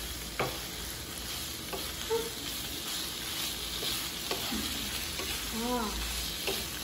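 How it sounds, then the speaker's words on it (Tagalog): Shrimp sauté in a non-stick pan, giving a soft steady sizzle with occasional scrapes and clinks of a utensil stirring, fairly quiet and close, with no talking. "Lagay na yung hipon para mag-gisa."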